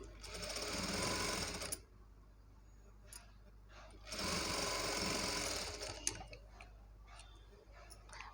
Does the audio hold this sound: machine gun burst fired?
no